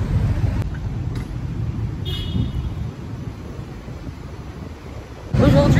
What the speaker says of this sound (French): il y a du vent frais